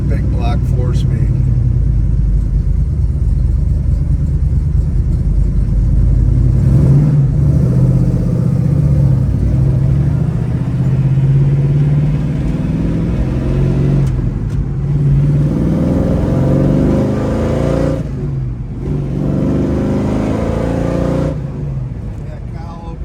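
A 1970 Chevelle 454 with a four-speed, frame-off restored, rumbles loud and close, its engine swelling and dropping through revs while someone talks over it.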